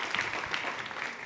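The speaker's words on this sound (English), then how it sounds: "Let's give them a round of applause." Audience clapping at a youth summit session, a brief, fairly quiet burst of many hands at an even density.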